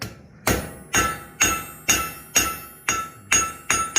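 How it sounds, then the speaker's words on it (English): A blacksmith hammers the ears of a forged donkey head on an anvil: about eight evenly spaced, loud, ringing metallic blows, each decaying before the next strike. "Hit these ears, widen them out."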